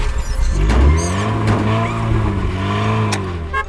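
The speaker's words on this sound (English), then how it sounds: "Turn on Tilly's engine, that's all Sly needs, to share Tilly's power and zoom off at speed." A cartoon truck's engine starts and revs up in a children's garage-repair cartoon, a loud rising then steady motor roar with bright harmonic whine, ending in a quick zoom-off flourish.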